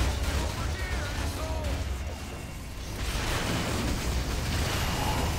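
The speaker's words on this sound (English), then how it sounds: "Oh god, grenade!" A grenade blast in the co-op shooter Fuse at Hyperion Base, a dense rumbling roar with whooshing debris and battle noise filling the whole stretch, loud and sustained.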